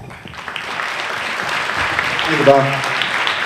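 Dinner audience at a Little League state finals banquet applauds, a broad crackle of many hands building through the moment while someone speaks briefly over it near the end.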